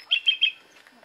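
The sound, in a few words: reed warbler bird call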